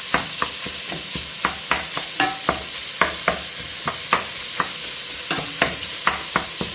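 Onion and bacon sizzle steadily in a frying pan while a utensil stirs them, producing a rapid series of close scraping clicks over the continuous hiss of frying.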